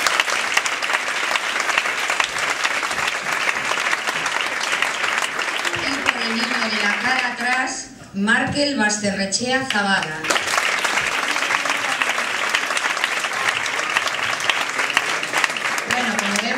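Audience applause at a children's book presentation, steady clapping from a crowd filling the room throughout, with a speaker's voice breaking through briefly in the middle as names are read out.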